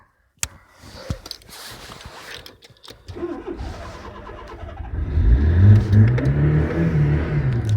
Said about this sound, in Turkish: normalden gaz aldığımız zaman böyle çalışabiliyor